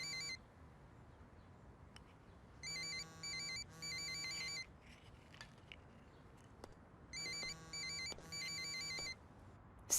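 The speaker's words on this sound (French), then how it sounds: "C'est le portable de Carlotta." A mobile phone ringtone plays in repeated electronic bursts, two short rings then a longer one, heard twice at moderate loudness in a quiet room with no talk.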